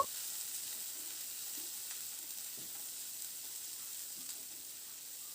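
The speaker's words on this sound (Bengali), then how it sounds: "এবার এই মশলাগুলোকে নাড়াচাড়া করে একটু ভেজে নেব" Ginger, garlic and cashews stirred and fried in a pan for a cauliflower dish, giving a soft, even sizzle with occasional faint stirring taps and no voices.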